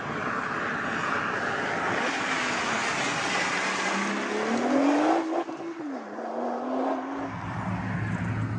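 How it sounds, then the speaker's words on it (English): Nissan GT-R driven hard along a public road, its engine note rising steadily in pitch as it accelerates, then dipping briefly at a gear change before pulling again, with loud, continuous road and wind roar throughout. "I'm in the Nissan GT-R and I'm driving this road pretty much as quickly as I think is sensible given the conditions."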